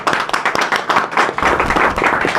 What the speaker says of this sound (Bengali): আমরা সকলে সুন্দরভাবে একটা করতালি মারি স্বাগত জানাই